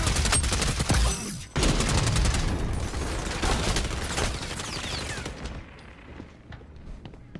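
Rapid gunfire rattles through XDefiant gameplay, with dense bursts of automatic shots and sharper single cracks that fade to scattered quieter pops near the end.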